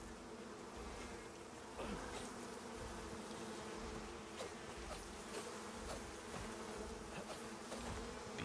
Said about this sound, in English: Bees are evading me.